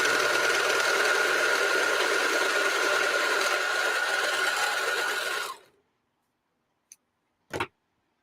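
A serger sewing machine stitches in a steady, fast, close whirring run for about five and a half seconds, then winds down to silence. Two brief clicks follow.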